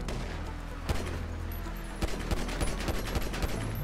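Bursts of automatic gunfire and single shots crack through a video game firefight in GTA 5, loud and close, with rapid volleys over a steady background.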